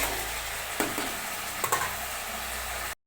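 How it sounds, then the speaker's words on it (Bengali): A spice paste with turmeric and salt fries in oil, a steady close sizzle broken by a couple of sharp scrapes of a spoon stirring in the pan, then cutting off abruptly. "আর এখানে দিয়ে দিলাম কিছুটা হলুদটা দিয়ে মশলাটা একটু ভালো করে ভাজা ভাজা করে নেব"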